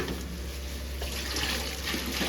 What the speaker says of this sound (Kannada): ನೀರು ಹಾಕಿ ಈಗ